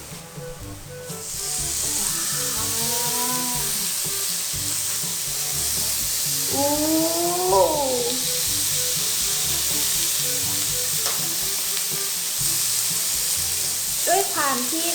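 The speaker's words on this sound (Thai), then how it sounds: "เอาเบคอนลงเตาปิ้งย่างก่อน" Thin shabu-style bacon sizzles and crackles steadily on a tabletop grill, a continuous close frying hiss with occasional squeaky utensil scrapes over it.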